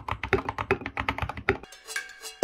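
A 65% mechanical keyboard with 68 keys clacks under quick, uneven typing, a dense burst of close keystrokes for about a second and a half followed by a few sparser, lighter clicks.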